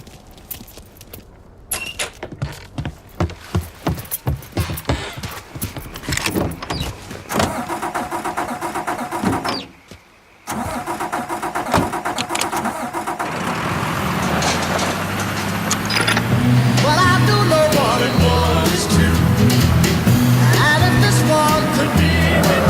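A car engine in the video game Mafia III cranks with rapid stuttering turns, briefly cuts out, then catches and settles into a loud, steady idle that swells and holds to the end, with no talking.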